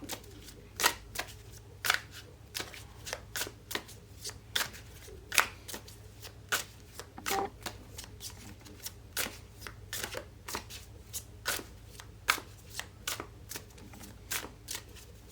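A deck of tarot cards is shuffled steadily, with crisp repeated riffles and slaps at an irregular quick rhythm, close and moderately loud with no talking.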